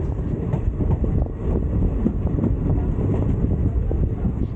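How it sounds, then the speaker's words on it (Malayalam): A train on the electrified broad-gauge line gathers speed between Bhagavathipuram and Sengottai, a steady close rumble of wheels and carriages with wind buffeting throughout. "ഇപ്പോൾ ട്രെയിനിൻ്റെ വേഗത കൂടി തുടങ്ങിയിട്ടുണ്ട്."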